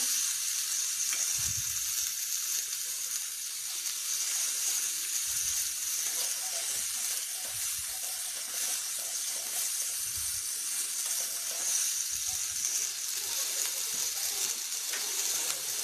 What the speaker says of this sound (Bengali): লবণ হলুদ দিয়ে একটু আলুগুলো ভালো করে ভেজে নেব